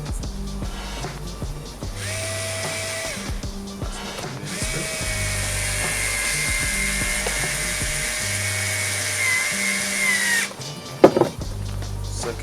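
A small powered screwdriver drives a screw while USB ports are fitted into a car dash, giving several short whirring bursts between pauses, the longest a steady whine of several seconds, ending with a few light clicks.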